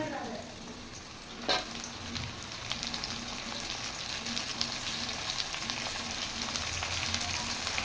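Onions and tomatoes frying in a pan for vegetable biryani, a steady close sizzle with crackling spatter and occasional stirring clinks, continuous and fairly quiet throughout with no talk.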